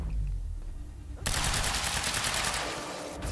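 Gunfire from a Striker team in the video game Quantum Break, a sudden burst of rapid automatic shots that cuts in after a quieter opening and keeps up a loud, dense clatter to the end.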